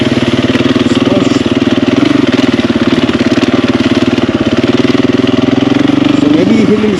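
A 2022 Husqvarna FE 350s dirt bike is ridden at low speed through snow and slush, its engine chugging in a steady, pulsing rhythm near and loud, with the revs rising slightly toward the end.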